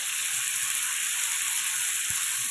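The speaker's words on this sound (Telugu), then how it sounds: "అన్నీ ఇలాగే ఫ్రై చేస్తున్నాను" Vegetables and tomatoes frying in oil in a pan for a coriander-mint chutney, giving a constant bright sizzling hiss close by with a faint low thump.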